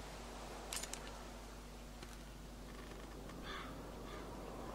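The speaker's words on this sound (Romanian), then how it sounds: "Cioară!" A crow caws a few times in The Walking Dead video game, short harsh calls set against a quiet hum of background ambience, with a couple of brief clicks near the start.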